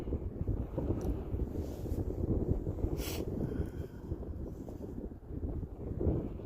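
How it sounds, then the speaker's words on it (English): Cold winter wind gusts across a riverside catfishing spot, buffeting the microphone in a steady low rumble that swells and eases throughout, with no talking. "Ooh, here comes that wind again."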